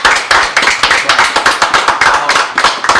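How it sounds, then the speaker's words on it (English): Small group clapping for a round of applause in a home setting, steady and fairly close, with a brief voice faintly underneath. "One more round of applause for JC."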